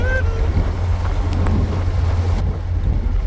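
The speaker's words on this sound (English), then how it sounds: "Cruising down the highway, top speed, 90 clicks an hour." A car towing another vehicle rolls down the highway at about 90 km/h, with heavy low road rumble and wind buffeting filling the cabin continuously.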